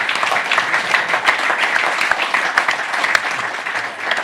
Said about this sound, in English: that was a round of applause